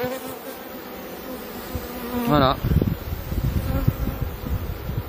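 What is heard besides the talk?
honeybees buzzing on brood comb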